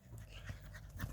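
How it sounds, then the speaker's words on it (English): Puppies pant out in a field, close and quick, with a few short breathy bursts in a brief burst of dog breathing and no voices. "Good puppies."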